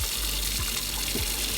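Roughly 500 ml of water pours steadily into a container for an energy drink, a continuous close gush with low gurgles and no voices.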